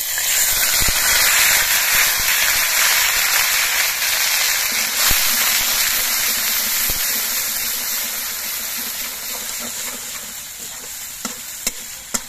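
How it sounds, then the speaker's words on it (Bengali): Ginger, green chili and cumin paste sizzles in hot oil in a pan, a steady loud frying hiss with occasional stirring scrapes, fading slightly toward the end. "জিরেটা ভাজা হয়ে যাওয়ার পর আমি যে আদা, কাঁচা লঙ্কা, জিরে বেটে রেখেছিলাম সেই বাটা মশলাটা দিয়ে দিচ্ছি।"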